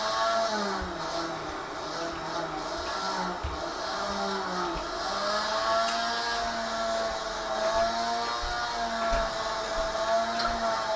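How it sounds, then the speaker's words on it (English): Steady whining grind of a rotary tool smoothing the solder seam on a handmade metal ring, close and continuous, with the pitch wavering as the tool is pressed and eased against the metal. "there will be a little line there that I want to take out so the solder seam won't show. So that's what I'm doing, grinding that."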